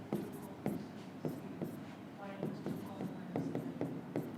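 Marker or chalk writing two letter points onto a classroom board, a series of short squeaky strokes and taps at close range with a voice talking over parts of it.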